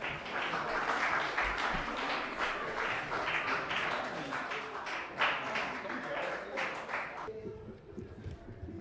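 An audience at a quiz-style competition applauds in a dense, fairly faint burst of clapping that runs several seconds and then cuts off abruptly, leaving quieter room noise.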